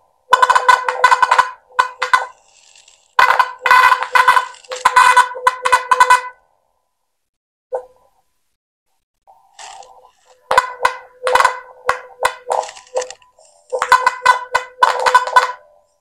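Bursts of buzzy, warbling electronic tones from a DIY PlutoSDR Doppler radar's audio output come in rhythmic clusters, separated by short silent gaps.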